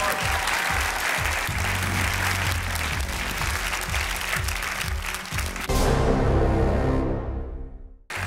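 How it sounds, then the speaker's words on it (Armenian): A television studio audience at X-Factor Armenia applauds a contestant with loud, sustained clapping that swells briefly before cutting off abruptly near the end. "Բարձր ենք ծափարում Աբրահամին և ճանապարհում"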